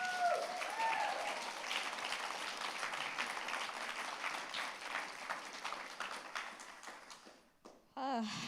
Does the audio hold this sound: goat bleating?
no